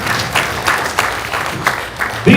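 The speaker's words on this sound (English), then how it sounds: "Please give them a big round of applause." Applause from a gala audience, a steady wash of many hands clapping at moderate loudness with a few sharper claps and faint voices beneath.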